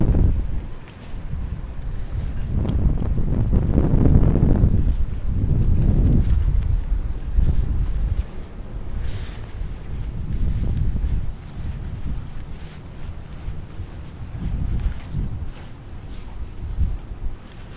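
Strong wind buffets the microphone on an outdoor walk, gusting in loud, rumbling waves that rise and fall throughout, with no talking.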